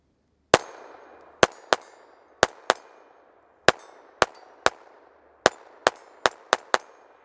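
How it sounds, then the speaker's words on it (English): A Taurus TX22 Compact .22LR pistol fires CCI Standard rounds unsuppressed outdoors: about fourteen sharp, loud cracks in irregular bursts, some shots spaced apart and others in quick strings, each followed by a short ringing decay. "you want to see the pistol function and run and what it sounds like unsuppressed"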